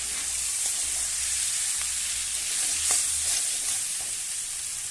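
Vegetables and spices for a tarka sizzle with a constant bright hiss in a pan as eggs go in, with soft stirring scrapes and small bumps close by.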